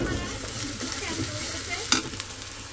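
Onion and ginger paste fry in a pan while being stirred, a continuous close sizzle with scraping strokes and one sharp clink of a utensil midway.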